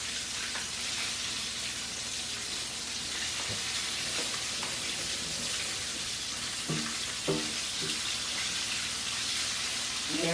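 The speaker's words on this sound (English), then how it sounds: "How many chicken legs you frying?" Chicken legs fry in hot oil in a home kitchen, giving a steady, close sizzling hiss with occasional louder crackles and small clinks near the end.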